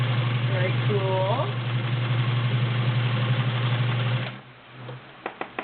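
A Wards Signature UHT 276D sewing machine stitches with a steady humming motor drone close by while a voice talks over it, then stops abruptly, leaving a few small clicks.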